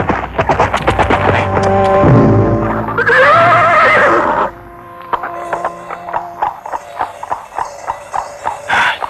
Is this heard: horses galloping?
yes